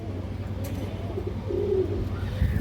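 Soft, low coos from breeding pigeons, a pair kept for eggs and chicks, against a steady low hum with light rustling.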